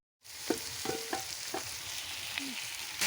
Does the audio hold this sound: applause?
no